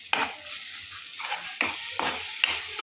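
Onion masala with ginger garlic paste is stirred in a hot pan, four or five distinct scraping strokes over a soft sizzle, close and clear with no speech.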